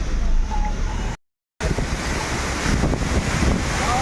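A waterfall on the Rishikesh to Sonprayag route toward Kedarnath gives a loud, steady rush of pouring water mixed with wind buffeting the microphone, broken by a short silent dropout partway through, with no talking.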